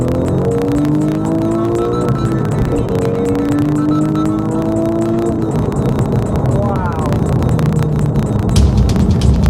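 A Porsche sports car engine revs and accelerates loudly, with rising and falling harmonic tones sweeping up through the gears, close and steady throughout.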